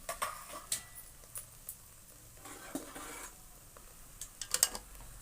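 A spoon scrapes and stirs chana dal, coconut and jaggery roasting in a pan for holige: quiet, irregular scrapes and taps against the metal, with a faint sizzle underneath and no talking.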